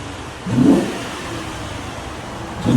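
A 2012 Cadillac CTS 3.6L V6 engine with stock exhaust revs up briefly, settles into a steady rumble, then starts to rev again at the end.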